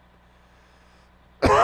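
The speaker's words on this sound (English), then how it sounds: "I'm coughing again" One sharp, close cough bursts out loudly at the very end after a quiet stretch of low background hum.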